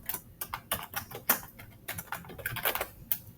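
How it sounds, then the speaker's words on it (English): Rapid clicks from a computer keyboard as a player name is entered in a chess database, uneven bursts of close, crisp keystrokes with short pauses between, no talking. "I have very good typing skills"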